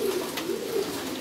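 Racing pigeons coo in a loft, a soft, throaty murmuring repeated in a steady low rumble across the moment with no talk over it, close and moderately loud.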